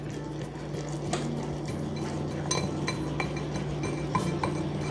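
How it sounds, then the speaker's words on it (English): Orange pound cake icing of powdered sugar whisked in a bowl, a steady faint clinking and scraping of the whisk against the bowl over a constant low hum, with no talk. "Now you're gonna go ahead and whisk."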